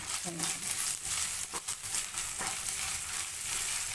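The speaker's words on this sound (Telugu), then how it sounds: "తురుము పెట్టుకున్న పచ్చి కొబ్బరి ఇది కొంచెం ఎక్కువ వేగనేయకుండా" Freshly grated raw coconut frying in a pan, giving a steady, moderately loud sizzle with occasional stirring scrapes.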